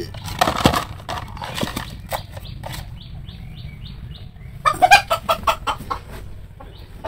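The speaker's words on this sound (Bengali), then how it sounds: "ডিম পাড়ার পরে তো এরকম শুরু করে, একটাই ডিম পারে সবটিতে চিল্লায়।" A village hen cackles loudly and repeatedly after laying an egg, with a burst of clucks early on and another run of rapid, insistent calls near the end, close by and without talk.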